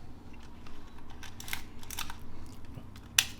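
A sharp mechanical click of a Canon Canonet QL17 camera shutter near the end, after some quieter clicks and handling noise, recorded up close.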